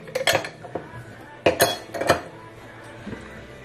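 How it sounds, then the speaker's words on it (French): Ice cubes drop into a glass for a cold summer syrup drink, giving a few bright clinks and clatters in two short bursts separated by a pause. "Je vais mettre mes glaces."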